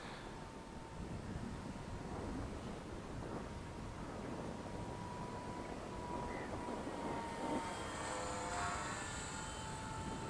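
WLtoys V950 entry-level 3D RC helicopter flying with idle-up, a continuous whirring rotor and motor drone with a steady tone, faint and somewhat distant under light wind noise.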